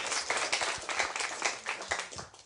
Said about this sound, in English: A round of applause for both sides